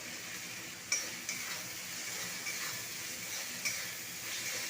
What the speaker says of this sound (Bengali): মশলাটার সঙ্গে মটরটাকে কষিয়ে নেব